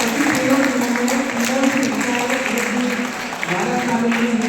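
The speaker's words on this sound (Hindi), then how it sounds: "जोरदार तालियां हो रही है" An audience at a biodiversity quiz event claps steadily throughout, a dense wash of applause with someone talking loudly over it.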